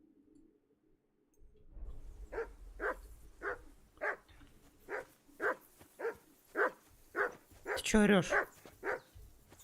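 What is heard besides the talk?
dog barking in Kingdom Come: Deliverance II video game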